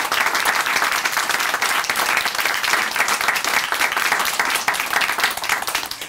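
Steady, dense applause from an audience at a Korean Christian broadcast, many hands clapping loudly and continuously throughout, with no voices standing out.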